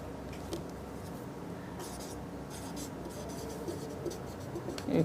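Chalk or marker writing on a board during a Class 10 trigonometry maths lesson, with steady faint scratching strokes that run low and close throughout, under a constant room hiss and no clear talk.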